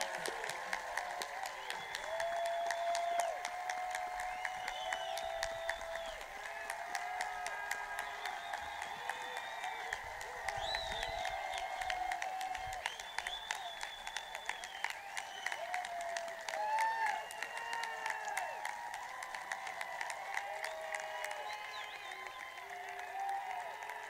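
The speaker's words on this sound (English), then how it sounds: "can we have one more round of applause for the Cherokee graduating class of 2020?" A crowd at a 2020 high school graduation ceremony gives a long, sustained round of applause, with dense clapping throughout and faint crowd noise and scattered voices beneath.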